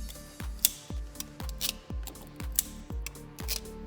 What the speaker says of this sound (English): I'm gonna go ahead and crimp on some smaller eyelets onto these so they fit a little better on those studs